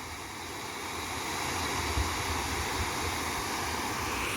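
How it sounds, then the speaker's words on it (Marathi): Steady rushing and gurgling of a small waterfall, continuous and fairly loud, close by, with no voices. "एकदम खळखळ खळखळ खळखळ आवाज यायला लागला"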